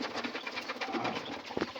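Caged quail on a quail farm fill the air with busy, continuous chirping and cooing calls at close range, with no voices.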